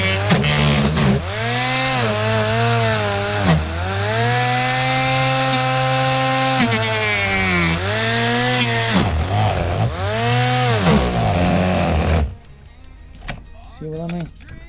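A Ferrex cordless strimmer from Aldi whirs loudly and steadily as it cuts short grass, its pitch sagging and straining under load before winding down near the end.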